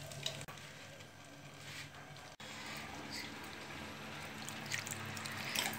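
Chickpea curry (chole) masala is stirred gently in a hot pan, giving a steady, close sizzle with soft scraping and a few brief clicks throughout.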